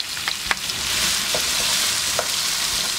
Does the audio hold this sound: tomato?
yes